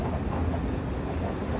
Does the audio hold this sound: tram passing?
yes